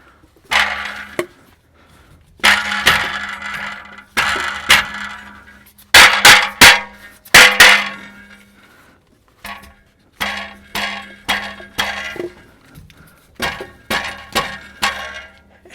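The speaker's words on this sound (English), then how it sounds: "Gonna need a little bit of a bigger dead blow hammer" Repeated blows from a large dead blow hammer on a GM 6.5L diesel engine during rear main seal work, coming in short bursts of solid knocks with brief pauses between groups, close and fairly loud.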